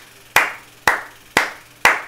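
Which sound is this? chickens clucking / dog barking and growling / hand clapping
hand clapping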